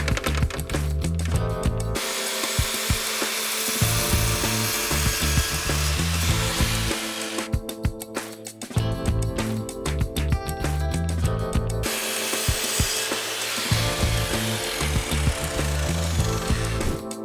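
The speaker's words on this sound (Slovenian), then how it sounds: "z rezalno in zajeralno žago odrežeš 8 enako dolgih kosov pod kotom" A miter saw cuts wooden slats into eight equal pieces at a 22.5-degree angle. The blade screams loudly and continuously through several cuts, with short dips in pitch between passes, and nobody speaks.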